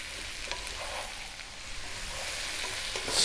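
Onions and potatoes sizzle steadily in a pan, a soft continuous frying hiss with faint crackles, fairly quiet and even throughout, with no voices.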